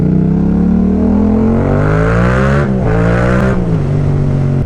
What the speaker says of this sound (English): So as you can hear, this bike actually sounds super sick.